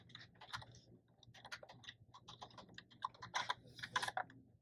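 Fingers typing a username on a computer keyboard at a library printing release station, a quiet irregular patter of key clicks in short bursts, close but faint.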